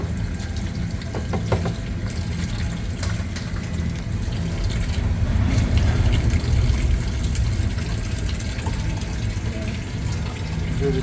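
Tap water gushes steadily over pieces of cooked mud crab being rinsed, a continuous close splashing with small clatters of shell.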